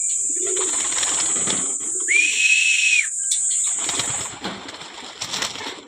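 Racing pigeons about four months old at a loft in Guimba, Nueva Ecija, with soft low cooing and wing flutters close by against a steady high background tone and a brief whistle-like note.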